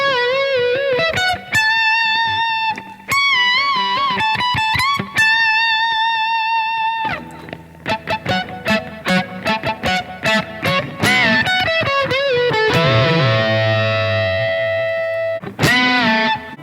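Distorted electric guitar plays the A section of a piece, with sustained bent notes on the third string, quick picked runs and a wailing bend near the end, loud and close with no talking.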